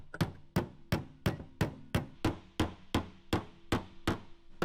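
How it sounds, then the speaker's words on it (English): Hammer tapping on car body metal along a dented body line, a dozen evenly spaced, fairly loud knocks in a steady rhythm with no talking. "Now I'm gonna take my hammer and do some relief tapping."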